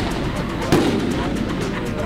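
A 200-gram fireworks shell bursts with a loud, close boom that cuts through a rumbling outdoor background, followed by a crackling tail as it fades.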